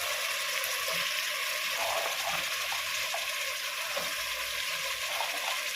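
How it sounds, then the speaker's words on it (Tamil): Beans and carrots sauté in a pan for white brinji rice, giving a continuous dense sizzle with faint stirring scrapes underneath, close and steady, with no talking. "இது நல்லா வதங்கணும்."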